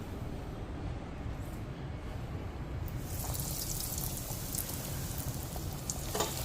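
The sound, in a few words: rolls frying in hot coconut oil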